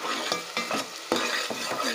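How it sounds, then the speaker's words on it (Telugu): Onion and green chilli paste fries in a pot with a constant sizzle, while a utensil stirs in quick, repeated scrapes at a close, steady pace. "పేస్ట్ బాగా ఫ్రై అవ్వాలండి, కలర్ మారే వరకు ఫ్రై చేసుకోవాలి।"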